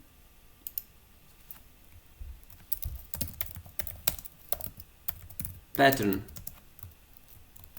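Code being typed on a computer keyboard in quick, uneven bursts of close key clicks, with a person speaking briefly over the tapping.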